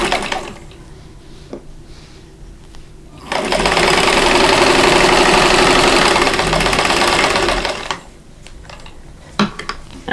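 A sewing machine stitches quilt block pieces, with faint handling sounds at first, then a loud, fast, steady whir of needle strokes for about five seconds before it stops.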